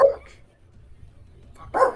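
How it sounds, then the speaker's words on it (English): A dog barks twice, with a short sharp bark at the start and another near the end, each fairly close and clear over a quiet background. "That's Harlow barking"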